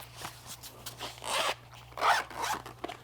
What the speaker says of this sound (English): Zips all the way around, close it all the way up.